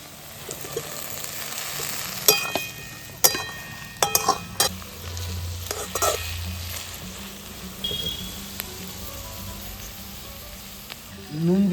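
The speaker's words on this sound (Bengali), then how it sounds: "এই পেঁয়াজটা একটু ট্রান্সপারেন্ট হবে ভাজতে ভাজতে, তারপরে আস্তে আস্তে বাকি সবজিগুলো" Onion, garlic and tomato fry in a pan for an eggplant bharta, making a continuous crackling sizzle with intermittent metallic clinks and scrapes of a spoon against the pan.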